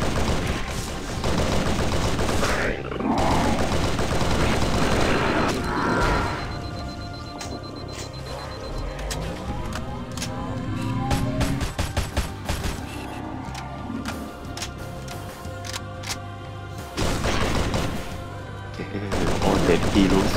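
Dense automatic gunfire and weapon bursts fill a Halo match, loud and nearly continuous with brief lulls, while a voice talks over the action.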